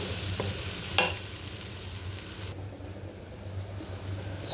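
Masala with tomato sauce and a splash of water is stir-fried in a pan, giving a low, steady sizzle with a few sharper scraping clicks from stirring.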